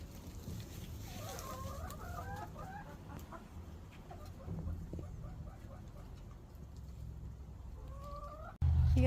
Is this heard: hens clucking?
yes